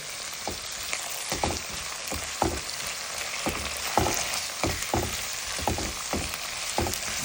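Whole spices such as fennel and cinnamon fry in a pan during home Tamil-style cooking, a steady close sizzle with repeated clicks and scrapes of stirring throughout, no voices.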